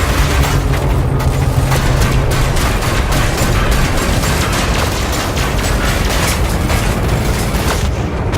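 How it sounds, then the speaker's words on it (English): A starship blowing up in the space game Elite Dangerous during a bounty-hunting fight: loud, continuous rumbling booms and crackling detonations fill the whole stretch without letting up. "Now watch closely after the ship explodes"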